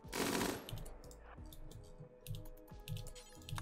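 Video game gunfire in Rimworld, in a cave colony hunting capybaras, comes as quick, rhythmic bursts of light popping shots. Game sounds and tones sit quietly in the background.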